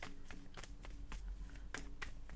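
Tarot cards shuffled by hand in a quiet room, a run of quick riffling and slapping bursts repeating every half second or so, fairly soft and close.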